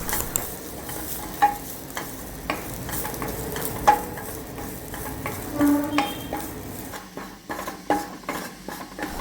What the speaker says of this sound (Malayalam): അതും കൂടി നമുക്കിതിലേക്ക് ഇട്ടൊന്ന് ആ വെള്ളമയം മാറുന്ന വരെ ഒന്ന് വറുത്തെടുക്കാം.